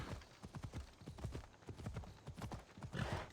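Horse hooves clip-clop in the video game Assassin's Creed Odyssey, a quick, steady run of close hoofbeats that keeps going throughout.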